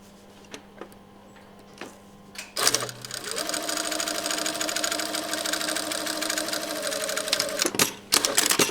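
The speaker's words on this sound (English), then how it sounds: "I'm also going to stay stitch on the shorter side" A sewing machine runs in a steady, continuous burst for several seconds while stay stitching along the placket of a shirt sleeve, with a few light clicks and handling noises before and after.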